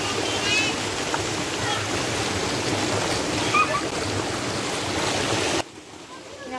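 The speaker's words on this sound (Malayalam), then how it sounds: "നമുക്കേതായാലും ഈ വെള്ളച്ചാട്ടം നല്ലോന്നുണ്ട് പറ്റിയിട്ടുണ്ട്." Waterfall in Malappuram, Kerala, pouring as a steady, loud broadband rush that fills the scene almost throughout, then cuts off abruptly near the end.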